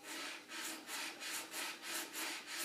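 A leveling bar is rubbed back and forth along a wooden guitar fretboard, about eight even, rhythmic strokes. The scraping sounds close and fairly quiet, with no voices.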